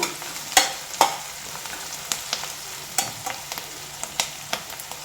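Ingredients for ghee rice sautéing in a pan: a steady, soft sizzle with sharp spatula scrapes and clicks recurring irregularly through the whole stretch, fairly close and with no voices.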